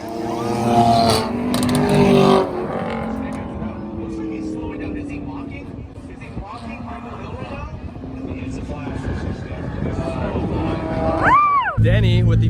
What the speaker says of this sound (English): the 570S won her race against the Fox Body Mustang